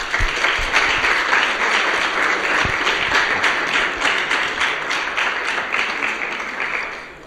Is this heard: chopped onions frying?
no